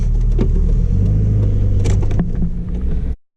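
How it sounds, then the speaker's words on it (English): Mazda MX5 with a 4-2-1 manifold and decat revving nearby, a loud throaty engine rumble with sharp crackling blips over about three seconds before cutting off abruptly. "The MX5 sounds fantastic, I think."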